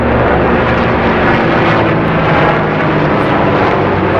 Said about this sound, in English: Sorry y'all, that's an aircraft. Well, two aircrafts.